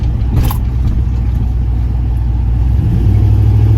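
A turbocharged LS-swapped Caravan cruising at an easy pace, with a steady, loud low engine drone and road rumble throughout and no talking.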